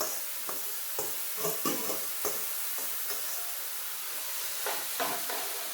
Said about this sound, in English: So after we fry up everything, we add the callaloo.